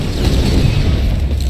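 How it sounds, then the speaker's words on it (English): Explosions in the video game Risk of Rain 2, a loud continuous barrage of booming blasts with heavy low rumble packed tightly together over a short stretch. "constant, like, explosions"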